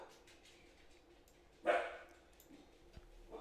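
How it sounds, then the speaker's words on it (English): A dog gives one short, faint bark at a distance over quiet room tone, followed by a soft low thump; otherwise the scene stays hushed. "He's just barking."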